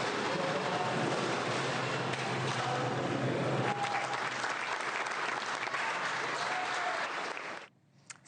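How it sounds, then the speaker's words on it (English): At Shedd Aquarium in Chicago, the team bursts into loud, sustained applause after six beluga whales arrive, dense clapping that cuts off abruptly near the end. "The team at Shed Aquarium in Chicago burst into applause when it was all said and done."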